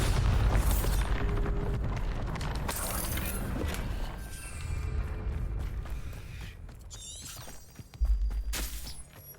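A Bombarda spell blast in Hogwarts Legacy: dense, busy game sound with a deep boom and crackling burst near the end, no talking.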